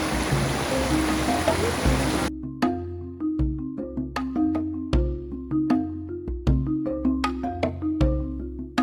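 Rushing water of Sungai Susu, a cold mountain stream on Rinjani, fills the first two seconds with a loud, steady hiss before it cuts abruptly to plucked melodic music.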